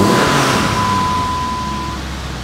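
A Dodge Viper V10 engine idles with a loud, steady, rough low rumble and broad exhaust hiss, holding even throughout with a thin steady tone running above it.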